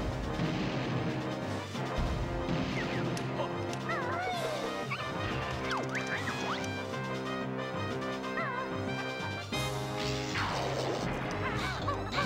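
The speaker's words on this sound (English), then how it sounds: "the mortar gun cannons will be shooting at him" Mortar gun cannons fire during a boss fight in the Banjo-Tooie video game, booming crashes and thuds landing over dense, continuous game music.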